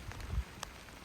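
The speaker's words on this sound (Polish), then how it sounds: "Deszczyk pada" Light rain falls steadily outdoors at an apiary, a soft, faint patter with a few brief, slightly sharper drops and no voices.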